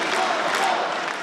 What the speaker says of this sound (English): the crowd chanted its disapproval of the GOP filibuster